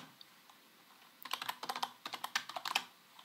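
Fast typing on a computer keyboard while entering an Excel formula: a quick run of crisp, close key clicks in an irregular rhythm, starting after a quiet lead-in.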